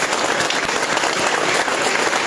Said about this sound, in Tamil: அந்த அம்மாவுக்கே நீ ஒரு பெரிய கைத்தட்டல் தரணும்.